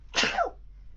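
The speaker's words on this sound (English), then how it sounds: "It's like the fourth video where I've sneezed on camera." A single sharp, close sneeze bursts out and quickly fades, leaving a low steady hum behind it.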